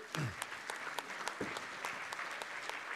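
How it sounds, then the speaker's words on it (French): Audience applause for a speaker at a conference on eating well at a fair price, a steady patter of clapping from a modest crowd with a brief voice rising at the start and again mid-way. "On applaudit Jean-Christophe Tessier"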